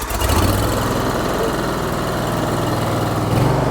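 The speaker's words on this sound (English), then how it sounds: "With it being an EFI engine, it just needs 10 seconds to level itself out and find its parameters" A small EFI engine, apparently on landscaping equipment, idles loudly and steadily just after starting, a close continuous rumbling drone with even vibration and no talk.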